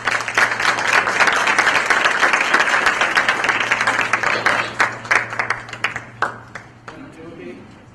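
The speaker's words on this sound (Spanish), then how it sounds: "Hay que recibirlo con un aplauso, por favor." A conference audience claps to welcome a speaker, a loud, dense round of applause that holds steady and then thins into scattered individual claps before fading.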